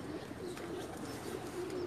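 Flying pigeons kept in netted enclosures on a rooftop coo steadily, a low continuous murmur of several birds close by with faint background noise and no speech.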